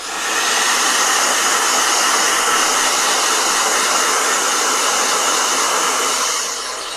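A hair dryer blows steadily and loudly, a continuous broadband rush that holds for several seconds before easing slightly at the end, with no talking.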